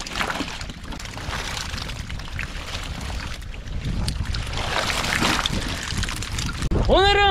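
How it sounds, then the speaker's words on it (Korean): Strong wind buffets a small boat on a lake during a bluegill removal outing, a loud continuous rush of wind and water slosh with a brief knock near the end. "바람이 겁나게 불어서요. 배가 막 이렇게 막 난리 났습니다."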